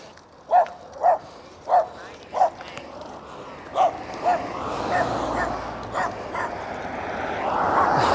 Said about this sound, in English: That puppy really wants to play with me.